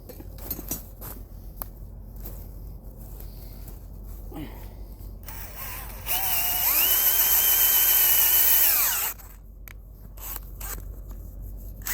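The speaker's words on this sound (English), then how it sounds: "I'm going to pre-drill my hole" A power drill whirs steadily at a high pitch for about three seconds, boring a hole in wet dirt, with softer scraping and rustling before and after.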